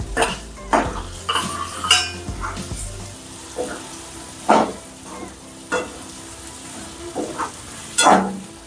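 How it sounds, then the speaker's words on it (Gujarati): Potatoes being added and stirred in a pan while cooking Gujarati suki bhaji, with repeated spoon scrapes and clanks against the pan over a light sizzle, in irregular bursts at close range. "હવે આપણે એમાં બટેકા નાખશું હા બટેકા"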